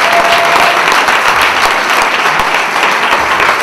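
Audience at a horror film Q&A gives guests a loud, close round of applause, dense and sustained with no speech over it.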